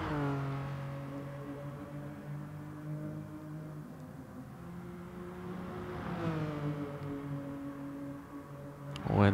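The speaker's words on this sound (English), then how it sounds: "He's smashing down the gears, high revs," Race car in a racing video game revving high with rising and falling harmonic engine whine, steady through the gears, then a sharp downshift blip at the end, loud and close.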